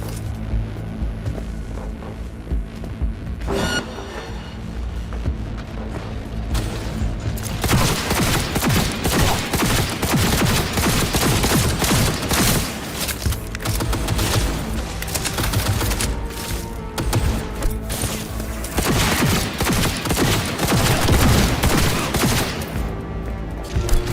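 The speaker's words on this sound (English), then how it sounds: "All units report. Opening fire." Sustained automatic gunfire and rapid shots in the video game Cyberpunk 2077, a loud, dense fusillade of overlapping bursts and booms that continues almost without pause throughout.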